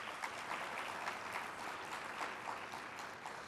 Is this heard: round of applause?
yes